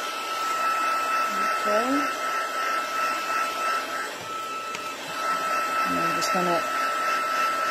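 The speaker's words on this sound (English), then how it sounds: "put the heat on the back as well, because that helps just straighten the cardstock out" Heat tool blowing hot air over stamped cardstock to dry the ink, a steady close whooshing roar throughout with a brief voice speaking over it.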